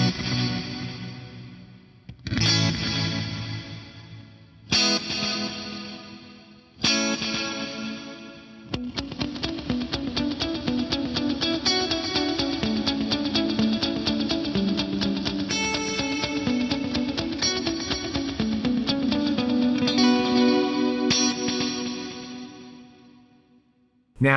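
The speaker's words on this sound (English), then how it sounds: "Let's try reverb into delay." A guitar is played through reverb feeding into a delay, with strummed chords and single notes ringing out into long, washy, echoing trails that build into a sustained swell before cutting off.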